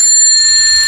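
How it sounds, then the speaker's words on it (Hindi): A bicycle bell rings as a single sustained, bright metallic tone that holds steadily for under a second, loud and close, with no other sounds around it. "तभी बाहर से साइकिल की घंटी की आवाज सुनाई देती है।"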